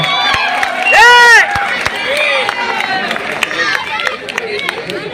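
An audience at a public felicitation event in Tanuku applauds and cheers to welcome a music director. The clapping and crowd noise are moderately loud, and an announcer speaks over them on a public address system.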